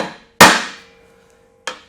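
A hammer strikes a punch against structural steel tube, two sharp metallic blows about a second apart, the first loud with a ringing decay, the second lighter.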